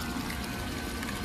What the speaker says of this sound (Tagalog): Umaapaw-apaw yung tubig.